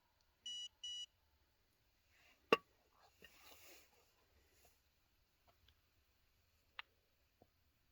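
A Dogtra Pathfinder dog training collar gives two short, evenly spaced electronic tone beeps, faint and close, followed by scattered quiet clicks and handling noises.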